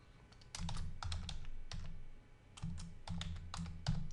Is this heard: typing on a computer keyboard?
yes